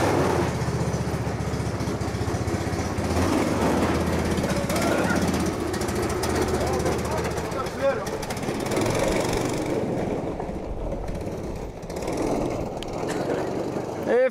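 A homemade go-kart engine runs loud and close with a harsh, rapid chattering drone that holds steady for a long stretch, easing slightly near the end, while voices talk over it.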